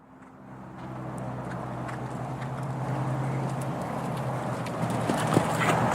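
Horse cantering in a riding lesson, with steady rhythmic hoofbeats on soft ground building over several seconds amid arena background noise; a faint snort or breath near the end.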